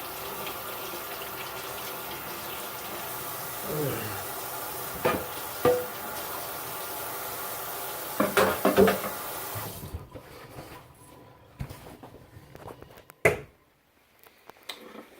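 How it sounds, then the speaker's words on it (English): Cherokee heirloom tomatoes are rinsed under a running kitchen tap, a steady close rush of water with small splashes and knocks, after which the flow stops and a few handling clunks remain. "I'm gonna give it a rinse."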